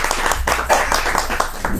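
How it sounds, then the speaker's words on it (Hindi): Audience applause welcoming a poet onstage at a Hindi poetry recitation show, a steady wash of many hands clapping at moderate loudness throughout, with faint voices mixed in. "जोरदार तालियां बजा करके भाई आशीष तिवारी निर्मल का स्वागत करिए।"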